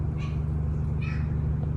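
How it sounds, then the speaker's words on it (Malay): A cat meows twice in short, close calls over a constant low engine-like hum aboard a houseboat on Kenyir Lake. "Meow."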